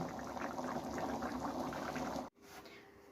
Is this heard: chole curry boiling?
yes